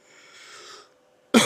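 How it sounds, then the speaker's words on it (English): A single sharp cough comes close and loud at the end after a soft breathy exhale, in a quiet room. "I'm still a little bit sick, so I'm coughing."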